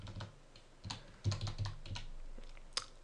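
Arrow keys on a computer keyboard tapped in scattered, quiet clicks while nudging a box into place in Photoshop, with a few sharper presses standing out.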